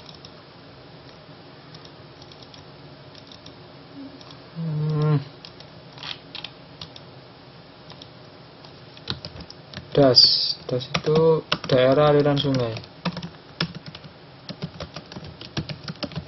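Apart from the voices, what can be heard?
typing on a computer keyboard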